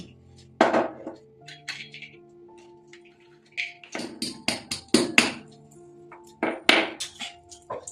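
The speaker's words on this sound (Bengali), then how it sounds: "এগুলো আমি হালকা ক্র্যাশ করে নেবো" Almonds and cashews being lightly crushed for jaggery wheat-flour biscuits, heard as irregular bursts of sharp taps and clinks, close and moderately loud, with quiet pauses between clusters.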